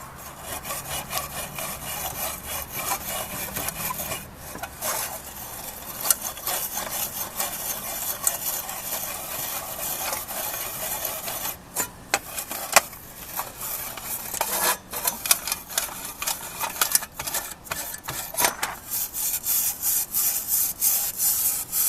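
A stainless steel scrubber rasps steadily over charcoal and rust residue on a natural hookah coal lighter, a continuous close, dense scraping with brief pauses.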